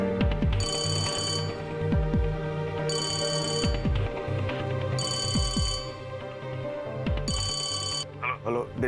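A telephone bell rings in four repeated bursts, each lasting about a second, over a steady bed of dramatic background music and some speech-like sound.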